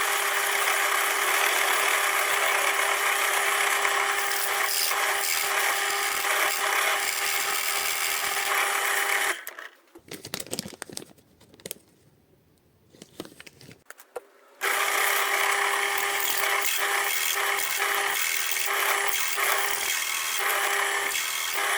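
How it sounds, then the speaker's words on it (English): A pillar drill bores a hole through a clamped workpiece, a loud steady whirring grind that stops for a few seconds before running again. "Let's see if we can't drop a drill hole down through there."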